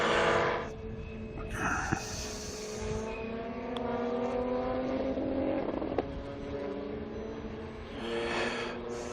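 Historic race cars are back at speed on the Estoril circuit after a full course yellow, their engines droning and shifting pitch as they pass, loud and steady with brief surges of acceleration throughout.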